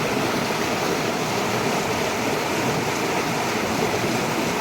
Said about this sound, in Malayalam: തോട് ഭയങ്കരമായിട്ട് നിറഞ്ഞിട്ടുണ്ട്.